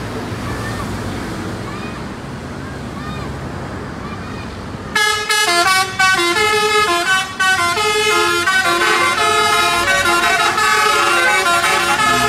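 Tour bus passing by, surf-like traffic rumble at first, then a loud melodic multi-tone horn blares in repeated bursts over the engine noise.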